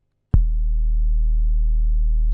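A sustained, buzzy synthesizer tone from the LEWD Kontakt instrument's 4-voice Mayhem patch starts abruptly and holds steady, thick and saturated with rich harmonics, loud and alone.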